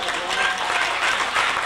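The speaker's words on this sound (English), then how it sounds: "I think that deserves a round of applause" Applause from a live audience at a 1989 roast, a dense, steady clatter of clapping that fills the whole short stretch at close, loud level.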